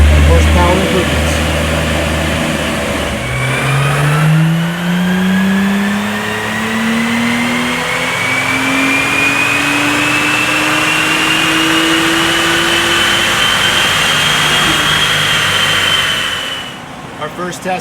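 Tuned Acura NSX twin-turbo engine on a dyno, loud and close, rising in a long steady rev sweep for about twelve seconds before cutting off; talk is heard at the start.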